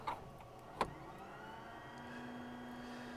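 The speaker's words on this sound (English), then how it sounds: "That's the electric hydraulic pump that you hear in the background, and it's pumping up the main pressure on the brakes." Electric hydraulic pump on a Pilatus PC-24 jet, pressurizing the brakes, makes a faint, steady motor whine in a quiet cockpit. A couple of short clicks come early.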